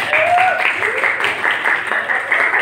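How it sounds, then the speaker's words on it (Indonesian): Participants at a teacher coaching session for academic supervision clap for themselves, a loud, steady patter of hands lasting a few seconds, with some voices mixed in. "kita kasih tepuk tangan untuk kita."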